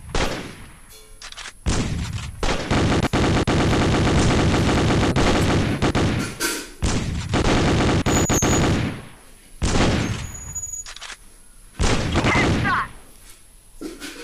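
Sustained bursts of rapid P90 submachine gun fire in a video game, loud and close, in several long volleys separated by short pauses.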